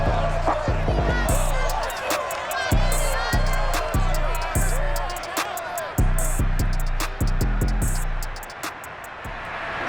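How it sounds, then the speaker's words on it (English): A packed stadium crowd roars continuously at a Seahawks home NFL game against the Bears in Madden NFL 22, loud and steady, with sharp thuds and percussive hits repeating through it. "This crowd, as we've come to expect in recent years, as loud as any in the NFL, and they get even louder when their Seahawks are introduced"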